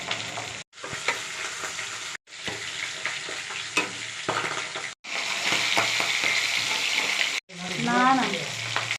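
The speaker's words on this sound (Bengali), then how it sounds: "বোয়াল মাছ এতগুলো ভাজা হয়ে গেছে, আর যেইগুলো আছে সব ভেজে নেবো।" Boal fish pieces fry in oil in a home kitchen pan, a loud continuous sizzle and crackle broken by a few sudden cuts, with some stirring and clatter toward the end.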